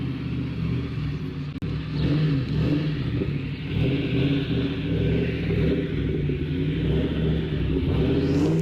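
A 2001 Ford Mustang GT V8 driving on newly installed maXpeedingrods coilovers, a steady low engine rumble with mild revving swells, passing close and loud with a brief sharp knock partway through.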